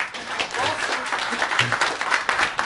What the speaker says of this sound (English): Give her a big round of applause.